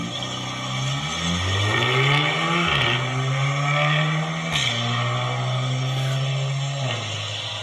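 A Volkswagen Golf R's exhaust revs and pulls through several gears on a cold start, a steady rising drone that drops briefly at each upshift, loud and close.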